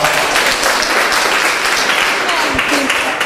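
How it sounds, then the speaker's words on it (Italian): An Italian audience bursts into loud, dense applause, many hands clapping continuously and close, with voices mixed in. "Bellissimo, un applauso."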